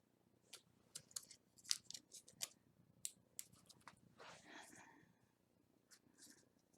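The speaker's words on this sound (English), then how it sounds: "now I'll just trim off that excess because we obviously don't want that showing" Scissors snip through excess paper while trimming a Halloween card, a series of crisp, close cuts coming in quick irregular bursts over a quiet background.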